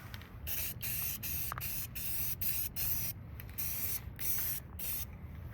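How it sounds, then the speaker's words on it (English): An aerosol spray can lays a quick coat of paint on the back of a harmonic balancer in short hissing bursts, about eight close bursts separated by brief pauses. "we're just going to put a real quick coat on the back of the balancer"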